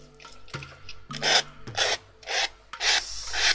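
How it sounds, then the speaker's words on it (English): Scraping on tin foil, rough rasping strokes in uneven bursts, close and fairly loud, with a few faint clicks between them. "Sorry about the irritating scraping noises, but we'll soon be done."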